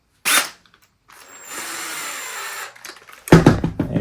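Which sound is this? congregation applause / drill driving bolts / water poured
drill driving bolts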